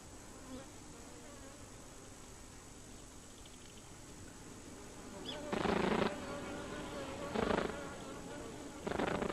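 Wild bees buzz steadily in the background, then several loud bursts of wing-vibration buzzing rise in short pulses close by.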